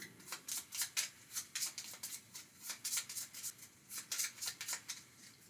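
Cards from a Power Rangers: Heroes of the Grid board game deck being shuffled, a rapid series of crisp riffling bursts repeating steadily, close up with no talking.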